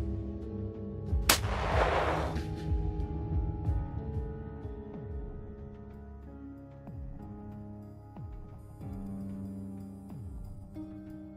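A ceramic Russian 6B45 Granit body armor plate rated Gost 5A is struck by 30-06 M14A1 armor-piercing incendiary rounds: one sharp, loud gunshot impact with a bright burst, then a long ringing, reverberant decay outdoors, no talk.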